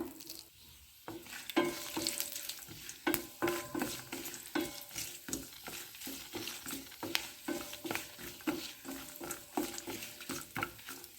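Rhythmic scraping and stirring in a pan with soft sizzling oil underneath as asafoetida, peanuts, curry leaves and dried red chilli are tempered, close and moderately quiet, repeating strokes throughout.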